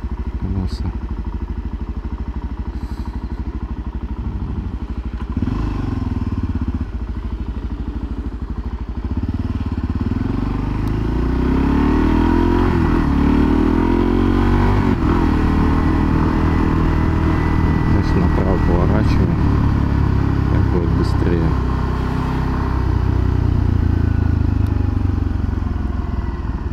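A motorcycle ridden in Japan after going unused for a long time. Its engine runs close and loud, with revs rising and falling in long sweeps throughout.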